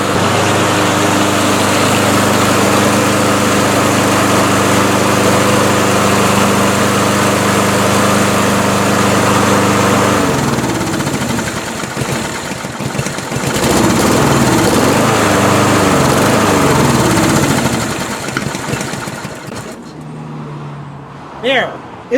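A gas lawn mower engine runs loud and close with a steady droning roar that shifts into a rougher, fluctuating throb partway through, then cuts back near the end, while a person talks over it.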